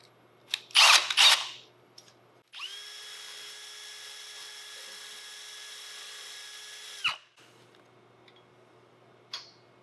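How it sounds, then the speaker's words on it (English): A power drill drives one screw into the butt plate of a Southern Mountain Rifle muzzleloader kit, a steady whine running about four and a half seconds. Sharp taps and clicks come just before and after. "This butt plate takes 4 screws."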